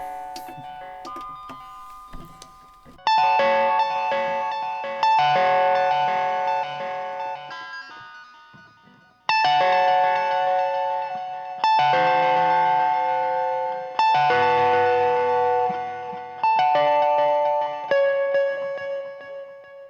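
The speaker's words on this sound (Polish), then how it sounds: "Albo zmienić ten delay. Może ten będzie lepszy." Electric guitar played through a Harley Benton DNAFx amplifier with a delay effect, clean picked notes and chords struck in several loud phrases, each ringing out and decaying with echoing repeats, no voices.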